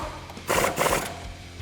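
Pneumatic impact tool driving a 21mm socket on a strut bolt during a lowering-spring install on a 2008-2019 Dodge Challenger SR, two short loud rattling hammer bursts close by with a gap between them.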